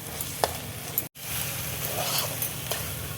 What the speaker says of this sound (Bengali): মশলাটা দেখো ভালো করে কষিয়ে নেব।